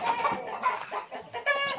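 A hen kept in a coop clucks in a run of short, repeated calls at moderate volume, with a louder burst near the end.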